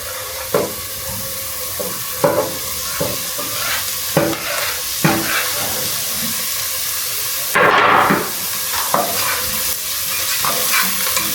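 Spring onions frying in a pan for samosa filling, with steady sizzle and repeated scraping stirs of a utensil at close range; a louder burst of hiss comes partway through, and no one speaks.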